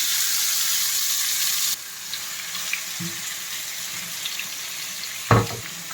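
Chicken frying in hot oil with curry leaves and cloves for poulet yassa, a loud steady sizzle that drops to a softer crackle partway through, with a brief clatter near the end.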